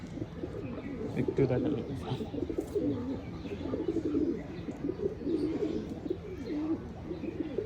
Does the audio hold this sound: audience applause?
no